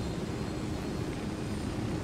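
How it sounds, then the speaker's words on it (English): A helicopter in the video game Ghost Recon Wildlands makes a steady, close engine and rotor drone that holds at an even level throughout, with no talk. "let's get into the helicopter"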